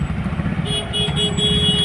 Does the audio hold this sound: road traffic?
yes